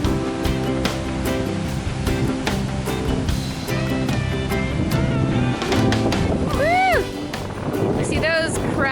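Ocean surf rolls in continuously along an Oahu shore, a broad steady wash of breaking waves with wind, while people talk and call out nearby.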